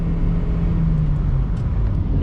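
A 2008 Toyota Prius hybrid under full throttle, its small engine giving a steady low drone with a faintly rising hum, heard from inside the cabin without talk.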